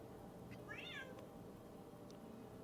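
A cat gives one short, faint meow against a quiet background hum, and a couple of tiny clicks are heard.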